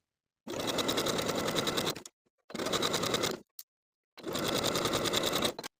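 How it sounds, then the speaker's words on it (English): A sewing machine stitches the back sleeve seams of a hoodie in three steady runs of rapid mechanical whirring, each lasting one to two seconds, close and loud with short silent pauses between. "Now I can sew the back sleeve seams at 3/8 of an inch"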